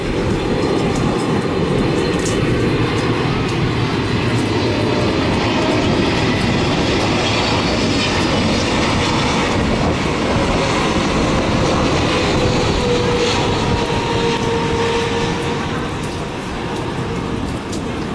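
A Qatar Airways Boeing 777-300 comes in to land at Tan Son Nhat airport, a loud, steady jet roar that holds close for the whole stretch and eases slightly near the end.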